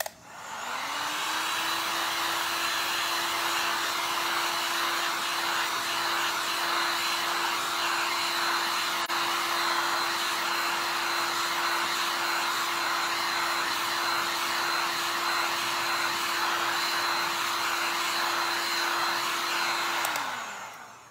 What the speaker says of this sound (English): I'm gonna give these just a hit with the heat one more time too.